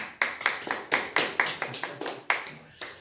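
A church congregation claps for three women honored at a Korean QT sharing service, a loose run of distinct hand claps from a small group, fairly close, with no talking.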